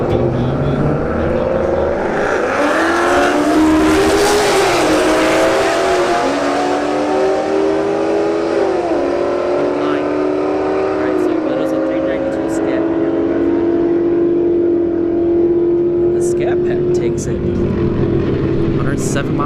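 A Dodge Hellcat SRT in the left lane and an S197 Mustang accelerate hard in a street drag race at a motorsports park, engines climbing through repeated gear shifts, loud and sustained with crowd noise and talk over them.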